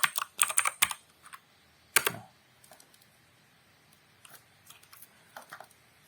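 Terminal commands being typed on a computer keyboard, close and crisp clusters of key clicks with a few sharper keystrokes and sparse tapping between them.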